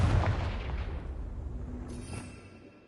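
A Confringo spell blast in Hogwarts Legacy booms loud at the start, then rolls off into a fading rumble and tail over a few seconds, with no voices.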